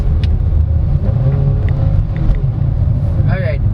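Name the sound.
Kia Soluto EX car driving, heard from inside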